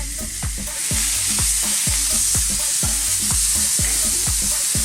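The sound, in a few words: beef brisket steaks sizzling on the grill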